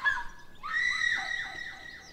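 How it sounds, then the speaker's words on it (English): A drawn-out, high-pitched scream from a character in the video game A House for, rising and wavering over about two seconds, fairly clear against a quiet background. "Oh my gosh, a scream."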